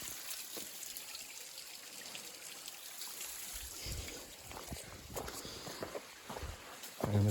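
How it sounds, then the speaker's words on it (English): Small waterfall trickling beside a forest trail, a steady soft wash of falling water that runs continuously and faintly in the background with no voices. "Small waterfall here."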